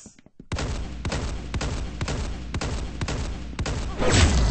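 Rapid gunfire in the Roblox-style shooter Arsenal, a sustained burst of evenly spaced loud shots about two per second, close and dense after a short quiet start, with a heavier blast at the end.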